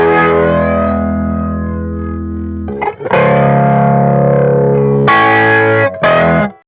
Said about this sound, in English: It sounds to me like there's no chorus, so I'm guessing it was on flanger mode.